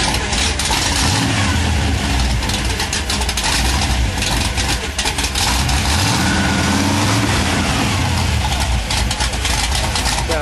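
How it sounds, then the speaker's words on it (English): A loud, big hot rod engine runs close by with a steady rumble and gritty mechanical gear-drive whir that holds without letup. "Sounds like that gear drive action."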